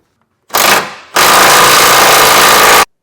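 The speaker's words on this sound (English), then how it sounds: "Now we're going to take a 15/16 socket and wrench and tighten down this big bolt." A 15/16 socket tightens a big bolt on a 2022 Ford F-series air helper spring mount, giving a loud, close mechanical rattling burst, a short pause, then a longer sustained hammering run that cuts off abruptly.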